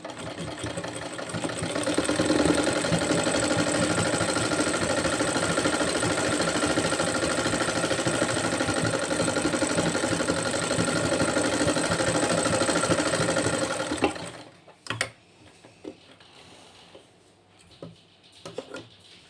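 Sewing machine stitching along a fabric sleeve cuff, a steady continuous mechanical whir running for about fourteen seconds before stopping abruptly, followed by a few faint clicks and handling sounds.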